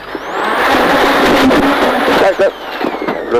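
A Ford Fiesta S2000 rally car on a Tour Natal 2015 stage goes off into sugarcane: a loud, close engine roar with a broad rush of crashing cane, held for a few seconds.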